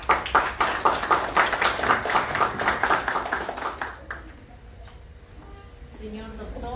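Audience applause at a formal ceremony honoring prosecutors in Ventanilla, Peru: steady, fairly close clapping for about four seconds that then breaks off, leaving a quiet room with faint voices.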